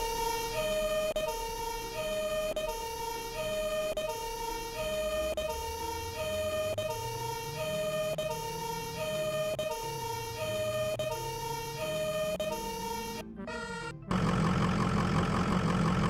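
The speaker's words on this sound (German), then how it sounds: "und Sirene" A loud fire engine siren on a Frankfurt professional fire brigade vehicle warbles steadily with a repeating rising-falling pattern and an engine rumbling beneath, then cuts off into a burst of broadband noise near the end.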